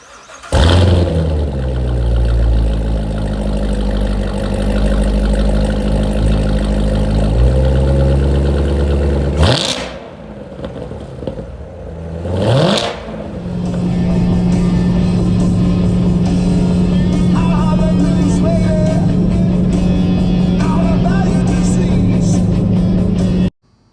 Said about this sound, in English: Now the first thing in the benefits category is the exhaust note. It's more crisp. It's got a more raspy sound to it.